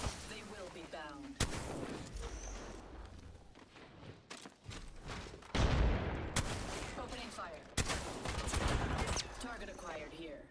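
Gunshots and heavy blasts in a video game, loud irregular bursts and booms layered with battle noise and game voices speaking throughout.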